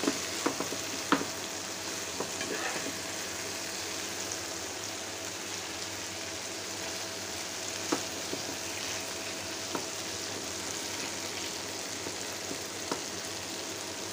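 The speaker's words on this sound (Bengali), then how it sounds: "লতি দিয়ে চিংড়ি মাছ দিয়ে একটু পোড়া পোড়া করে রান্না করলাম।" Taro stolons and shrimp frying in a pan give a steady, close sizzle throughout, with occasional faint taps and stirring clicks, no voices.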